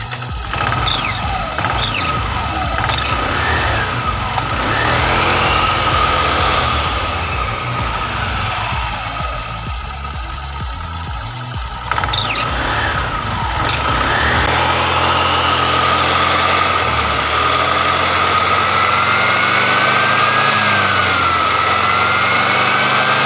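Honda scooter with an upgraded CVT runs close by, its engine idling and revving in steady surges with a whining drive note throughout the long stretch.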